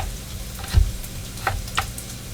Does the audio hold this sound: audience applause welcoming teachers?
no